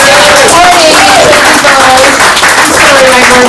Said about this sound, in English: Let's give Owen a round of applause.